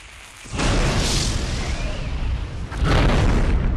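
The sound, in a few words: artillery fire explosions in the video game Mark of Chaos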